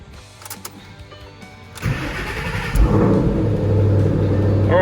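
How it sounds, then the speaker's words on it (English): A 2011 S197 Shelby GT500 engine cranks and catches, then settles into a steady, loud idle rumble close by. "now I'm gonna start the car and let it run."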